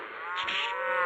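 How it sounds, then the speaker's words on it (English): A black bull in a video game lets out a single drawn-out moo, close and clear, with no talk over it. "It's the black bull."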